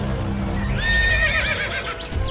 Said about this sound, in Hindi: मोहन प्रसाद ने घोड़ा दिखाया घमंड से, खड़ग सिंह ने घोड़ा देखा आश्चर्य से।